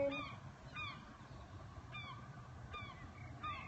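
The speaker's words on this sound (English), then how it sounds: "The seagulls singing over there." Gull calls sound in short, repeated bursts at a distance on a calm evening in Whitstable, heard from a loft window, spaced a second or so apart over a low background hum.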